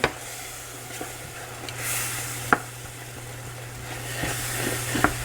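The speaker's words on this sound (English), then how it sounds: "we're going to put our beer in. And we're just going to stir that constantly here for a moment" Beer poured into a browned flour roux and stirred constantly in a pan for pretzel beer cheese, giving a steady low sizzle and hiss with a few sharp utensil clinks against the pan.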